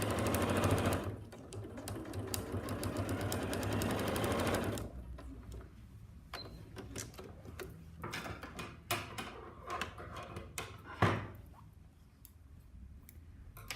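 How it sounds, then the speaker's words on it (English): A Janome sewing machine fitted with a new size 14 needle stitches a seam on showerproof fabric. It whirs fast and continuously for about four seconds, then stops, followed by scattered mechanical clicks and fabric handling nearby. "So I'm going to make my seam."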